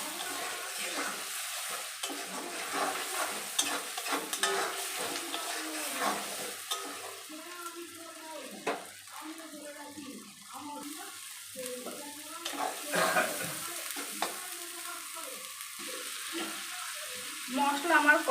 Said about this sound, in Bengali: গ্যাসটাকে আমি মিডিয়াম ফ্লেমে রেখে ভালো করে মশলাগুলোকে কষিয়ে নিই